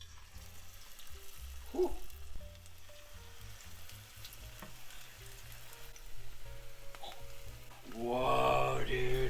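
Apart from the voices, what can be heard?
onion nugget mixture frying in hot oil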